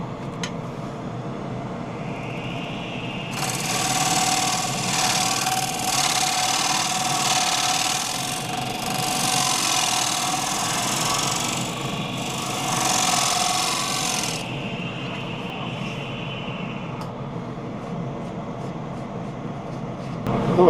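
A wood lathe spins a damp, punky spalted alder bowl while a round carbide tool scrapes it in a loud, sustained hissing cut of about eleven seconds over the motor's steady hum.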